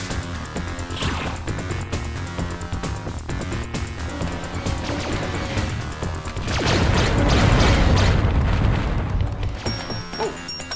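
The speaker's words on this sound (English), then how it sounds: "Oh, still someone shooting at me." Enemy gunfire aimed at the player in Descent, a steady clatter of shots and impacts over droning game music, swelling into a louder burst of blasts in the latter half.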